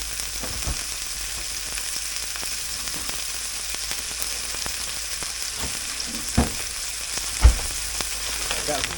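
Frozen Member's Mark Angus burger patty frying in a pan, a steady close sizzle throughout with a few sharper pops and crackles near the end, no talking.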